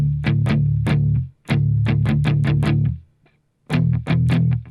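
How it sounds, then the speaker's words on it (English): Distorted electric guitar chugs palm-muted power chords in the intro riff, tight rhythmic bursts in two phrases separated by a short pause, loud and alone. "The intro of this song is going to have palm muted power chords that sound like this."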